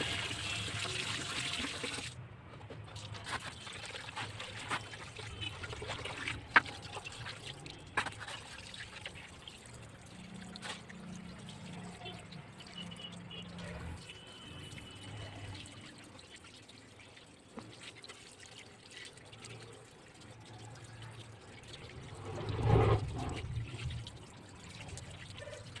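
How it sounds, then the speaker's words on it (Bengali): Running water washes fish innards in a kitchen, a soft steady trickle and splash under a faint background hum with a brief louder gush near the end. "এতে এবার এটা ধুয়ে নিচ্ছি, মাছের পোঁটাটা ভালোভাবে বাদ করে।"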